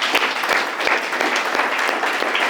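Audience applause for a chairman, Professor Maurice Radebe, at a ULP event, dense steady clapping from a crowd throughout, loud and continuous.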